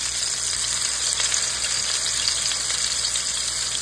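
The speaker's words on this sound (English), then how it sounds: "And cook them in that bacon grease." Salisbury steak patties fry in bacon grease on a stove turned up high, giving a steady, dense, close sizzle and crackle with no talking.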